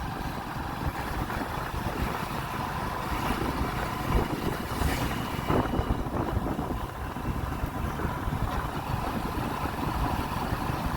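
Ferry boat on the Rupnarayan River at a ferry ghat, a steady low engine drone with wind and water noise, continuous and moderately loud with no speech.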